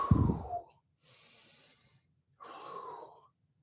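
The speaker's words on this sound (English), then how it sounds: "I'm out of breath." Heavy, labored breathing from someone out of breath: a deep groaning inhale-exhale followed by two raspy breaths separated by short pauses, close and alone.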